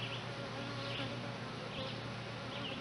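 A steady, dense buzzing of many bees around a hive, continuous and close, with no voices over it.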